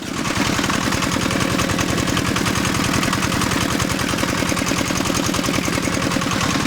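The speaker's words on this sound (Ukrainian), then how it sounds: "Слухаємо, як працюють мотоблоки 10 кінських сил різних заводів виробників." Two 10 hp walk-behind tractors, Zarya and Vepr, run their engines close by with a loud, steady, fast chugging rhythm that never stops and has no talk over it.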